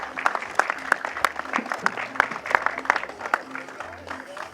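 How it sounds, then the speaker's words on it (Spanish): Moderate clapping from spectators at a karting race for the STIHL and Master 150 4T classes, crisp separate claps continuing steadily with voices mixed in underneath. "Ahí fuerte aplauso para todos."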